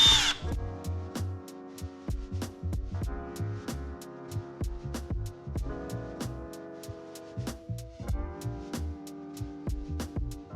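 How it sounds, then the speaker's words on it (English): A power drill bores a pilot hole while fitting black plastics on a Husqvarna 701 enduro motorcycle, its whine rising and falling in repeated short bursts with sharp clicking. "having to drill it out a little bit more"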